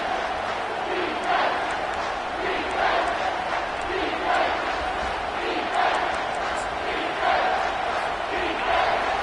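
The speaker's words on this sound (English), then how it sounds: "This crowd will blow out a vocal cord to help this defense." Home stadium crowd at a college football game against Texas A&M roaring loudly as the opposing offense lines up, a steady, dense wall of noise with rhythmic surges of yelling throughout.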